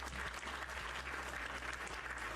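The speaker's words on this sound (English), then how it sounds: "give Jacob a round of applause for that" Applause for a Minecraft stream member named Jacob, a steady wash of clapping that sounds canned, held at a constant level throughout.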